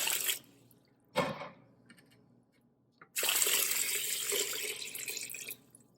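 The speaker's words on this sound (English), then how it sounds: "I'm going to add 6 cups of water." Water splashes briefly, then six cups pour steadily into a cooking pot for a couple of seconds, close and loud, with no talking.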